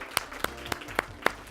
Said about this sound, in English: Let's give you all a nice round of applause.